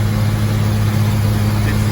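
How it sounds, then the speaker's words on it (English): A heavy vehicle with a 230 engine and oversized 11 by 16 tires runs at a steady, loud drone with a constant low hum, continuous for the whole stretch. "A 230 engine in a vehicle this heavy,"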